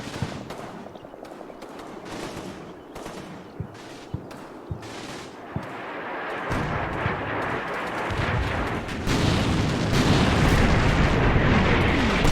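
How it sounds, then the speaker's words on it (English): Artillery shells land in a war video game: a string of sharp booming impacts at irregular intervals, building into a denser, louder rumble of explosions toward the end. "I think we had artillery coming in"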